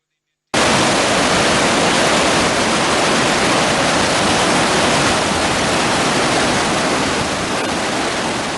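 Water rushes out through opened reservoir sluice gates in a loud, steady roar of broadband noise that starts abruptly and continues unbroken at close range.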